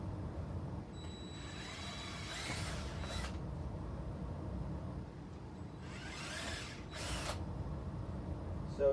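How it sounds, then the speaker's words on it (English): A power drill cuts holes in a PVC tube in two short, fairly faint bursts a few seconds apart, over a constant low background rumble. "you're going to take your PVC tube and you're just going to drill a butt ton of holes in it."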